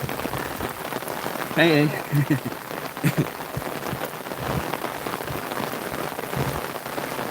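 Steady rain pattering on a surface fills the whole stretch, a continuous dense hiss, with a short voice and a few brief vocal sounds briefly rising above it.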